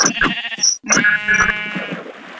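Minecraft sheep bleat several times in quick succession, loud and close, with wavering nasal cries and a brief gap between them.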